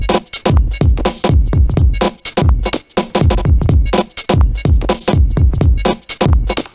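A looped sampled drum beat with punchy kicks and added extra snare hits repeating in a steady, fast rhythm, loud and continuous, played through the EXS24 sampler.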